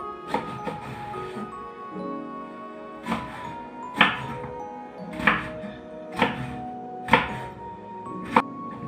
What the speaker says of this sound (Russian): Крупный баклажан нарезать кубиком, равным по величине нарезанного картофеля.